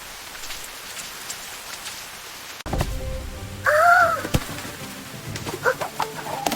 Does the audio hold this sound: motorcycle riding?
no